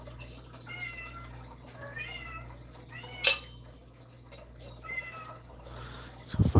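A pet cat meows repeatedly in the background of a quiet room, several drawn-out mid-volume cries spaced a second or so apart, with a brief clatter near the end.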